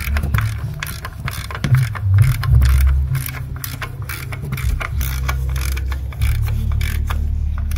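A ratchet tightens a 17mm bolt on a Lexus IS250 engine during valve cover and injector work, giving bursts of mechanical clicking close by over a steady low hum.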